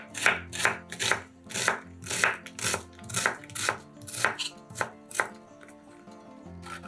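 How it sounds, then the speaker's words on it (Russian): A knife dices an onion into cubes on a cutting board: a steady run of about a dozen crisp, evenly spaced chops, close and clear, with no talking. "Одну луковицу нарезаем кубиками."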